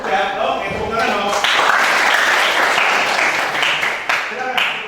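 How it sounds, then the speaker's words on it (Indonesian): Classroom applause rises after a student group presents on car battery types in a light vehicle engineering workshop, a sustained clatter of clapping with voices mixed in, starting quietly and swelling. "Udah, oke, tepuk tangan dong."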